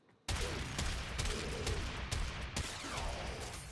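Hek shotgun blasts fire in a video game, loud heavy reports in quick succession bursting from silence and continuing throughout with dense repeated booms.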